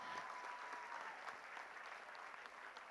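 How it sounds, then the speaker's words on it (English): Steady applause from a quiz competition audience in a hall, many hands clapping evenly and fairly faint, with no talk over it. "Can we have a round of applause"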